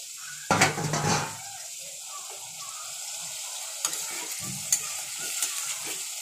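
Ridge gourd with poppy seed paste cooking in a pan, a burst of loud stirring and scraping near the start, then a steady soft sizzle with occasional light clinks of utensil against the pan.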